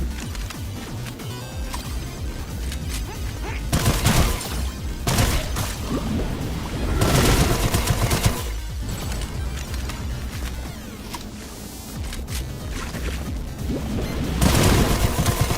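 Gunfire in the video game Sulfur, loud, repeated bursts of shots and crashing impacts scattered over a dense, busy mix of game sound, with several heavier clusters of blasts and no talking.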